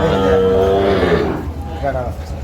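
A dairy cow with her calf at a rural cattle market in Dinajpur, a loud low moo at close range among market chatter and voices talking nearby.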